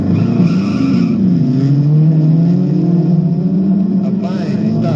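Race cars roar off the starting grid, engines droning loudly with tires skidding and squealing, a continuous close, dense burst of motor noise.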